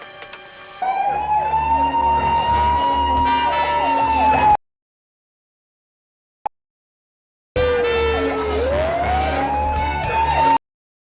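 An ambulance siren wails loudly in long rising and falling tones, cuts off abruptly into silence with a single click, then returns just as loud.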